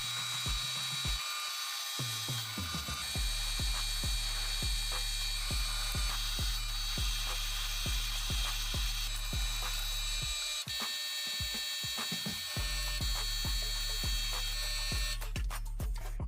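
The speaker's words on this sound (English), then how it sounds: "These marks are about to be drilled holes." Drilling holes in an iron component for a handmade pipe bending machine, a steady motorised whine with evenly spaced rhythmic ticks throughout, close and continuous with a brief pause partway through.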